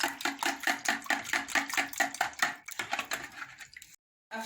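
Eggs and milk whisked in a bowl: rapid, regular clinking strokes of a whisk against the bowl, close and fairly loud, slowing and stopping before a brief pause.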